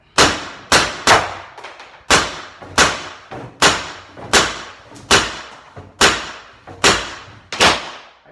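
A Pepperball VKS marker with a 9.5-inch barrel fires about twelve loud, sharp pops in quick succession, each with a short decaying tail, spaced evenly as the magazine empties, close and without speech.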